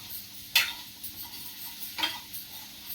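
Beetroot curry being stirred in a pan after salt is added, with a couple of clear scraping clinks of a spoon against the pan over a faint steady sizzle, and no talking.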